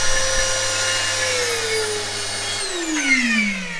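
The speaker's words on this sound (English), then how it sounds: "that thing feeds a Hoover motor" A Hoover vacuum motor on a speed controller ventilates a blast cabinet, a loud steady whine that sounds strained and failing, with a pitch that slides downward partway through.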